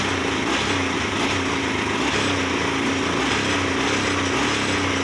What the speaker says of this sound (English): Both cylinders are running.